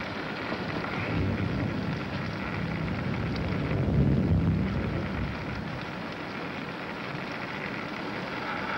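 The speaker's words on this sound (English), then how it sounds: "It's raining." Steady rain falls outside at night, a dense continuous hiss with gusts of wind swelling and easing, moderately loud and without any voices.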